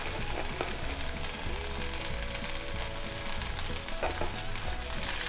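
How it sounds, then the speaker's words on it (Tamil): Eggplant sautés in a pan with red chili powder and asafoetida, a steady close sizzle and crackle with occasional stirring scrapes and no talking. "நல்லா வதக்கிடுவோம்."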